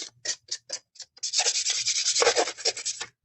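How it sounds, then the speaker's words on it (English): A piece of wood is sanded by hand, first in several short separate rasping strokes, then in a faster run of continuous scratchy rubbing, close and fairly loud. "I'm just going to sand it"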